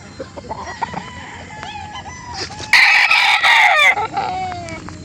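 Roosters (stags) crow at a chicken market in Calauan, Laguna, with clucks and scattered bird calls before one loud, close cock-a-doodle-doo rings out over the noisy yard.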